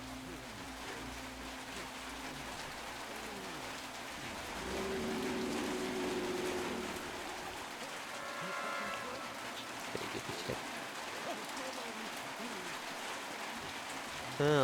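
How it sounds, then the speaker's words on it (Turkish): Rain falls steadily in the video game Metro Exodus, a continuous soft wash with a brief swell midway, mixed with faint game tones and light thuds. "Yağmur mu yağıyor lan?"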